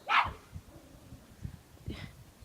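A sharp dog bark at the start, then a second, softer bark a couple of seconds later, with quiet background between.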